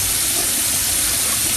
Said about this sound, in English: So what I do is I just take a little bit of water here